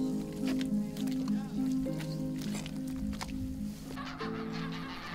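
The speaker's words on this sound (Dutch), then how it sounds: "In de herfst weten grote groepen friesganzen het verdronken land feilloos te vinden." A flock of white-fronted geese calling in the drowned salt marsh land of Saeftinghe in autumn, repeated honking cackles layered over a narrator's voice.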